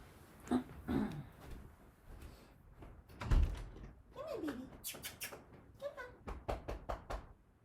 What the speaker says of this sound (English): My dog is scratching at the door.